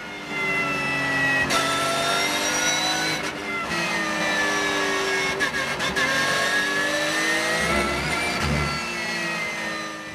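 Porsche race cars battle at the Nogaro circuit, their engines loud and close with rising and falling revving whines that shift pitch through gear changes, continuous with no pauses.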